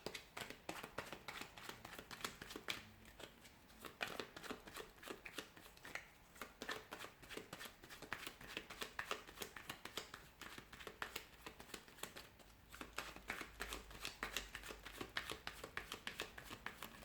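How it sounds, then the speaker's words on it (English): Tarot cards being shuffled over a long stretch, a steady dense papery riffling and flicking that rises and falls, with brief pauses, close and fairly quiet, no talking. "we'll give the cards a shuffle"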